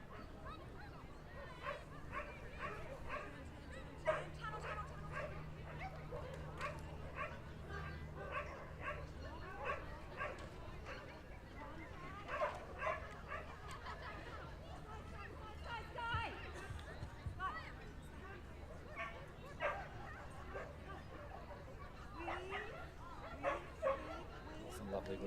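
At a dog agility event, an Australian Shepherd barks and yips repeatedly in quick bursts through the run, with crowd murmur and talk underneath.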